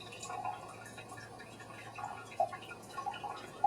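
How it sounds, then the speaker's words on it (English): Last few drips of freshly brewed dark tea trickling out of a tilted cup, a handful of small, sparse plinks over a quiet room background. "get those last few drips out"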